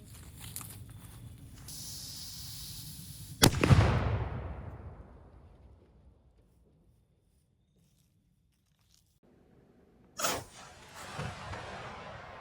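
An air rifle fires an oversized domed diabolo pellet at a bottle. One sharp, close crack is followed by a long fading ring and then near silence, and a second abrupt hit comes several seconds later.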